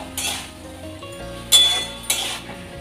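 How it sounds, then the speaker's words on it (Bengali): Fried potatoes and prawns stir-fried with spices in a pan, a low background sizzle broken by a few sharp clinks and scrapes of a utensil against the metal. "এখানে দিয়ে দিচ্ছি ভেজে রাখা আলুগুলো আর চিংড়িগুলো। ভালো করে মশলার সাথে একটু কষিয়ে নেব।"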